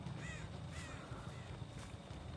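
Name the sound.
crow cawing in the Dead by Daylight video game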